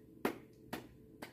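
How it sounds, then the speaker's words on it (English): Three slow, evenly spaced hand claps, sharp and fairly close, with quiet gaps between them. "give me a slow clap"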